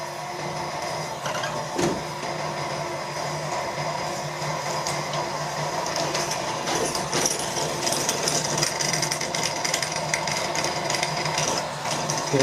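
A 7.9mm drill bores a hole in a workpiece on a lathe, giving a steady, moderately loud mechanical whir and grind that holds throughout, with a few brief clicks and knocks over the running machine.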